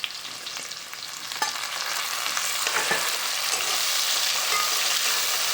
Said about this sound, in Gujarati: હવે નાખવાનું છે ટમેટા અને લીલું મરચું એ લીધું છે એ નાખવાનું છે.